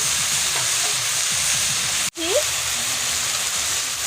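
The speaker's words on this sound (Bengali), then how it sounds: "এখন আমি টমেটো ছেড়ে দিচ্ছি।" Tomatoes go into hot oil tempered with five-spice and dried red chilli, giving a loud, steady sizzle and crackle throughout, with a brief dropout partway through.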